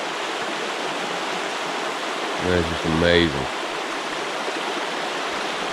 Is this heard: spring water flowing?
yes